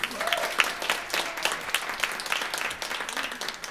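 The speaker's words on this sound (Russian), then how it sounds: "Ваши аплодисменты, друзья мои!" An audience at a brass ensemble concert applauds, a dense and even wash of many hands clapping at moderate loudness that holds steady throughout.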